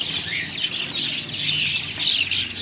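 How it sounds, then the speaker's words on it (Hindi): Many one-month-old pure Aseel chicken chicks chirp together in a steady, dense chorus of high peeping calls, close and continuous with no talking. "असील चूजे आए हुए हैं"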